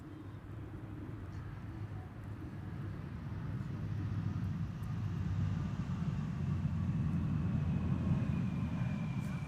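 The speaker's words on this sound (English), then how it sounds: "KLM flight 1850 arriving from Munich has landed here." A KLM jet arriving from Munich lands at Schiphol, a distant low rumble that swells gradually and holds steady.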